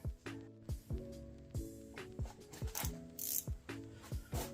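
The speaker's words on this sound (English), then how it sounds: "I'm using my little nifty ratcheting wrench to go ahead and tighten this one up" A small ratcheting wrench tightens a bolt on the oil filter housing of a 2008 BMW 335i E90 with the N54 engine. Bursts of rapid clicking repeat in a steady rhythm, close and fairly quiet, with no voices.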